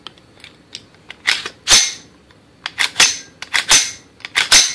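A bolt carrier group slides home into an unloaded AR-style rifle, giving a series of sharp metallic clicks and clacks in uneven bursts, close and fairly loud, with no talk.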